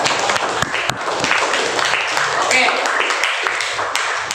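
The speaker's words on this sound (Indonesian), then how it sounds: "berikan tepuk tangan untuk kelompok" A classroom group of students gets a round of applause, a dense steady wash of clapping from many hands across the room, with a brief voice speaking over it.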